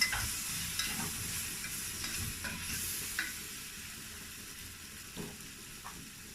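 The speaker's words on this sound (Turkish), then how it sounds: "Şimdi ona onun içine koydum, kavuruyorum. Biraz mantarlarımızı kavuralım." Mushrooms sauté in a pan for a quick mushroom soup, giving a continuous soft sizzle broken by the scrape and clack of a spoon stirring every second or so; no one speaks.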